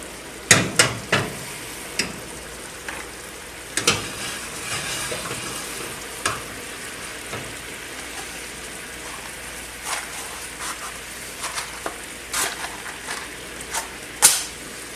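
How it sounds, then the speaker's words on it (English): Rum splashes into a hot, tilted pan for a blueberry-maple shortcake sauce, giving a steady sizzle and frying hiss broken by sharp clinks and knocks as the pan is shaken, with no talking. "I'm going to tip the pan, add the rum."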